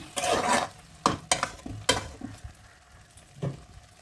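Bottle gourd and prawn curry finished with ghee being stirred in a pan, a few scraping strokes and soft clatters coming in short bursts over a faint sizzle, close and moderately loud with no talking.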